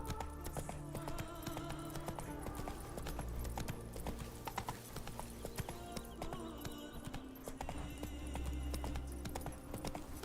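Hooves of Roach, Geralt's horse in The Witcher 3, clip-clop in a steady trot over a loud, dense bed of game music and ambience, continuing throughout with no gaps.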